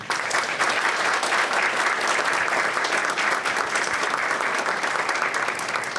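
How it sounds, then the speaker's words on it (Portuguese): An audience at an award ceremony gives sustained applause, a dense, even wash of clapping that stays at the same level from start to finish. "dar uma salva de palmas a essas pessoas nesse momento"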